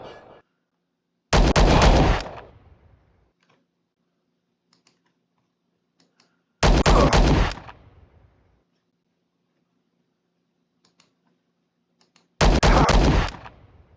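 Gunfire in the Star Traders: Frontiers space game comes as three loud, identical bursts spaced several seconds apart, each a sharp, dense crackle that fades, with near silence between them.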